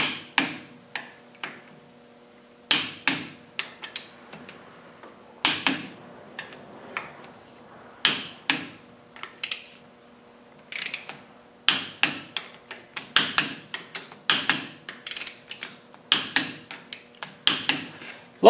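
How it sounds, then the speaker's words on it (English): A ratchet wrench tightens brake disc bolts on a Land Rover to a set torque, heard as loud, close bursts of rapid metallic clicking separated by short pauses over about eighteen seconds, with no voices. "we're going to tighten down the bolts here to 65 newton meters"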